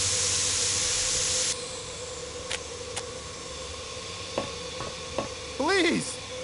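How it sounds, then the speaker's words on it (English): Steam escaping with a hiss aboard a train in an Agatha Christie Murder on the Orient Express video game, a steady hiss that drops after a second and a half, followed by faint clicks and a brief warbling tone over a low hum. "This must be where the steam is escaping."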